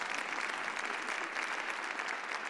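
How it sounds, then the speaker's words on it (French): A conference audience applauds two speakers at an event on biodiversity collapse, an even and continuous patter of many hands, fairly distant and moderate in level. "On peut applaudir ces 2 intervenants."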